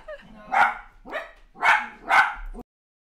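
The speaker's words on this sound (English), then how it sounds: "The barking has mostly subsided." Dogs bark sharply at a bird perched on a fence, four close, loud barks in an uneven rhythm with a short whine at the end.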